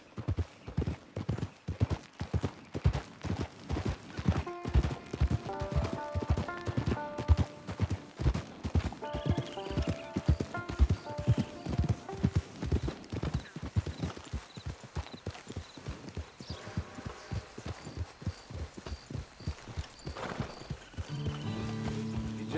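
Horse hooves galloping in the Red Dead Redemption 2 video game, a fast, steady clip-clop rhythm that runs throughout, close and prominent, with faint music or game sounds beneath.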